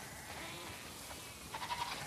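A short sheep bleat from The Last of Us Part 2 comes through late, quavering and fairly faint against a steady in-game background hum.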